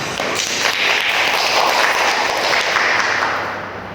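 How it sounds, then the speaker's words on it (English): A crowd at a semi-formal event claps to welcome a guest speaker, a broad, fairly loud patter of many hands that swells and then tapers off toward the end. "Let's give them a warm round of applause."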